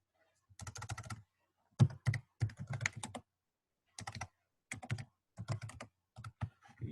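Username being typed on a computer keyboard: quiet, close clusters of rapid key clicks in short bursts with brief pauses between them.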